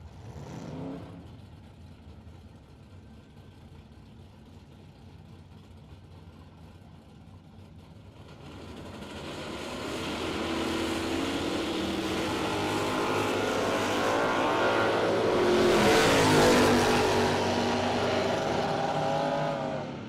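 Drag racing cars, one of them a first-generation Camaro, launch down a strip with a rising engine roar that builds and swells loudly, heard from the track side with a quieter idle before the launch.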